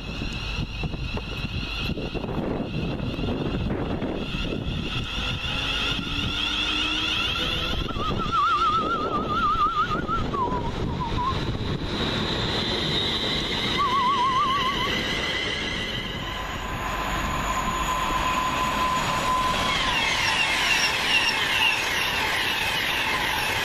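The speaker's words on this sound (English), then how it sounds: "now get ready to depart with the 1558 London Midland service from London Euston to Birmingham New Street via Northampton" A London Midland class 350 electric multiple unit pulling away from a station on its run from London Euston to Birmingham New Street, a continuous loud rumble and hiss of traction with rising whine tones, heard alone for over twenty seconds.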